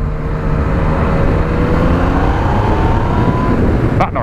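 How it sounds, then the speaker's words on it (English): Yamaha MT-09 triple-cylinder engine droning steadily and loud throughout, with a rising tonal whine, then a brief sharp transient near the end. "I do love that triple engine noise with the MT-09s"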